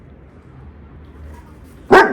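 A German Shepherd gives a single loud, sharp bark near the end, after a stretch of quiet low background rumble.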